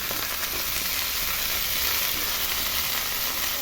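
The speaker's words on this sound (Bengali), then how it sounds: "চিকেনগুলো হালকা ফ্রাই করে এবার কিন্তু আমি উল্টিয়ে দিচ্ছি" Chicken breast pieces frying in oil as they are flipped, a strong, unbroken hiss and crackle, close and steady, with no voices.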